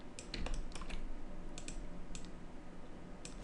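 Computer keyboard keys pressed during 3ds Max character clothing modeling, a quick cluster of light clicks followed by a few sparse taps, close and fairly soft over a low background hum with no talk.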